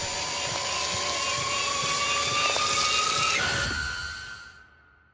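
A dental drill in the horror game Stories Untold approaches with a loud, steady high-pitched whine, rising in pitch partway through before cutting off and fading to silence.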